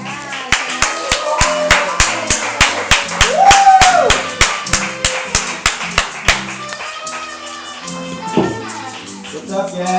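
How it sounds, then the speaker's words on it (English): A comedy-club crowd claps in a steady rhythm, about three sharp beats per second for six seconds, with a voice over it and talk continuing after the clapping stops. "Please keep clapping for Austin Ash."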